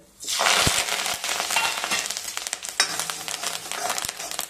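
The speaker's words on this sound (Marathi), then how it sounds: "तेलही बऱ्यापैकी गरम झालेलं आहे। आता आपण हे जे सगळे मसाले घेतले होते ते याच्यामध्ये घालूयात।" Ground spices hit hot oil in a pan for a Maharashtrian brinjal and potato curry, bursting into a loud, dense sizzle that flares at the start and crackles steadily, with stirring clatter, no voices.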